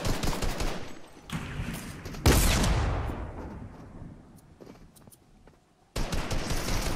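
Video game gunfire from a battle near a storm, with rapid bursts of shots, a loud close blast and a fading echo, then more dense firing.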